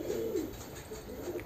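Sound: pigeons cooing

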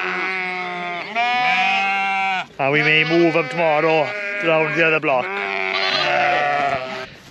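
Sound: sheep bleating

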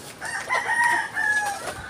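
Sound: rooster (stag) crowing

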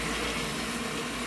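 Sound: washing machine hot water solenoid, water running in

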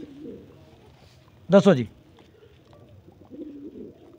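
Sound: blue pigeon cooing

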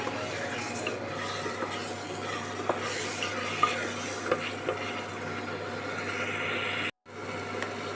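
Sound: peas being stir-fried in a pan

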